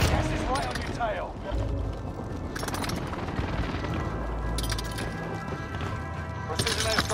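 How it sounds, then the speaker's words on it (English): A precision airstrike in Call of Duty Vanguard Warzone brings a dense barrage of booms and gunfire, loud and sustained with sharp bursts throughout, with voices talking over it. "Precision airstrike there."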